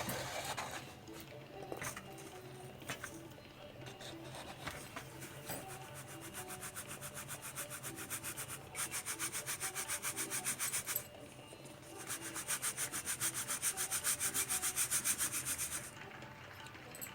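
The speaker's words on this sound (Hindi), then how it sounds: "दाल को हमने पीस लिया है, अब इसे छानेंगे।" Ground green moong dal flour is sieved by hand, a continuous soft rubbing and scraping that swells louder in stretches over a quiet background.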